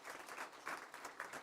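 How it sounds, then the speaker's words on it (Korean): Congregation clapping in a church service, a short burst of steady applause that is faint and distant, with no voices over it. "여러분 격려의 박수 해주시면 좋겠습니다"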